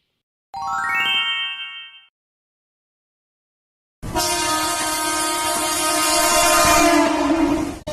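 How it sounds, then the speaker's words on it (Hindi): A train horn sounds briefly, then after a short gap a loud, sustained rumble of a train pulling into a station with its horn blaring steadily over the clatter of rolling cars. "चलो, जल्दी से चलो, मुंबई जाने की ट्रेन आ गई है।"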